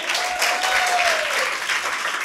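Audience applause at a church faith conference in Gorkha, a dense burst of clapping from a crowd, close and fairly loud for the whole short stretch.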